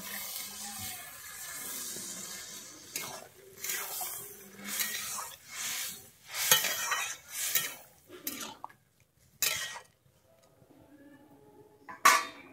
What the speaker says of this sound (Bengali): আমি এরপরে জল দিয়ে দিচ্ছি।